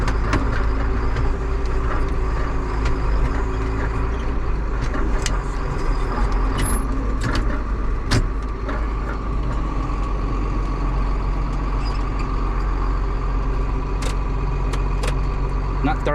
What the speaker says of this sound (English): Now watch that corn blow in the truck, would you?